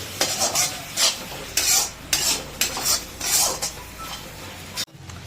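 Chicken curry masala with a little added water is stirred in a pan on a low gas flame, making repeated scraping strokes of a spoon against metal, loud and close, with a soft sizzle beneath.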